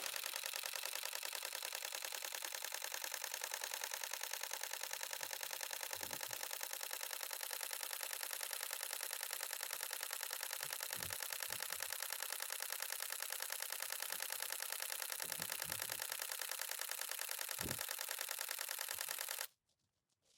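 Rapid machine-gun rattle of a Nikon D500 shutter firing a continuous RAW burst, an even, dense stream of clicks held for about twenty seconds, close and fairly quiet, then stopping abruptly.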